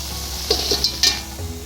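Wheat bonda fry in hot oil with a steady close sizzle, broken by a few brief spatters and light scraping as the fritters are turned in the pan.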